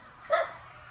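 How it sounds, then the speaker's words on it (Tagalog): A single short, sharp dog bark at close range, one quick yelp against quiet background. "Kagatin ka ng aso dyan, Dong."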